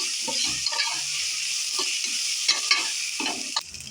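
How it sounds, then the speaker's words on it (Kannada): Sliced onions with mint and coriander leaves sizzle in a hot frying pan while a spatula stirs them, a continuous close frying hiss broken by repeated scraping strokes, with no talking. "ಆನಿಯನ್ ಜೊತೆ ಪುದೀನ ಮತ್ತು ಕೊತ್ತಂಬರಿ ಚೆನ್ನಾಗಿ ಮಿಕ್ಸ್ ಆಗಲಿ"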